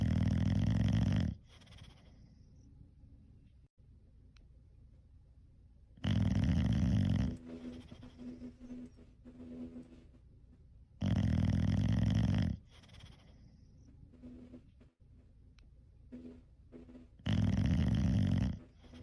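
A bulldog snores loudly in long rhythmic rasping breaths, four big snores spaced a few seconds apart with quieter wheezy breathing between them, close and alone.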